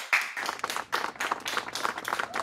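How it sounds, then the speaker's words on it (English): A small family group claps at home, with a handful of distinct, close hand claps in an uneven rhythm rather than a big crowd's roar. "Family, applause!"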